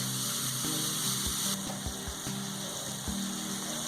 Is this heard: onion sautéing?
yes